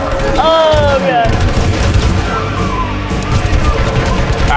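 A gunfight in a bar in Hitman: Absolution, with loud overlapping shots, booms and crashes filling the whole stretch while people talk excitedly over the chaos.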